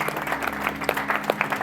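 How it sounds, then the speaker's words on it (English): Audience at an in-person forex traders' meetup gives a short, dense round of applause, many hands clapping at once, steady and fairly close throughout. "just a big round of applause for everyone that came to Dubai"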